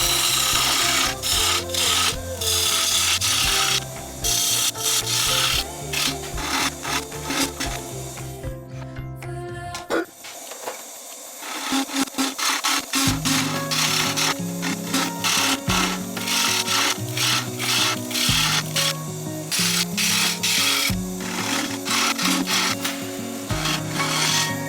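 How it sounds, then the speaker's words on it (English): A sycamore bowl spins on a wood lathe while a roughing gouge hogs out the middle, giving a loud continuous scraping, ripping rasp with steady rhythmic chatter, a brief pause near the midpoint, then heavy cutting resumes. "And I'm back to using a rougher to take most of the wood away."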